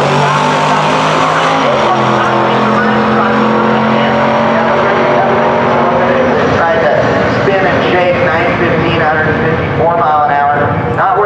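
A turbocharged 1977 Cadillac Coupe DeVille staging at a Gainesville, Florida drag race, its engine droning loud and steady with shifting revs, someone speaking over it.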